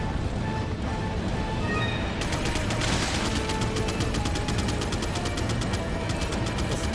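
Rapid, continuous gunfire in Resident Evil 4 with a mechanical rattling rhythm, dense and loud throughout, like automatic weapons.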